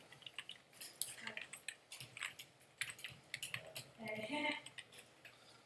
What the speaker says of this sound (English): you can just start typing away.